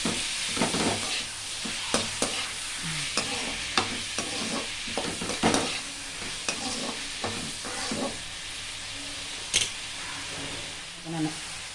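Steady sizzling of tomatoes sautéing in a pan with repeated stirring scrapes and clicks, close and fairly quiet, no talking.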